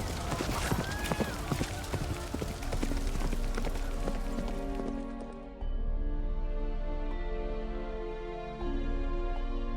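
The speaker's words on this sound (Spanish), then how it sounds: "Geralt golpeó al caballo con los talones. Se lanzaron a galopar" Horses galloping, a rapid clatter of hoofbeats in dense rhythm at first, then thinning into a sustained droning, resonant bed of sound with sparse hits through the second half.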